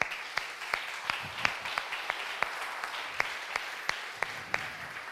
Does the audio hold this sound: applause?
yes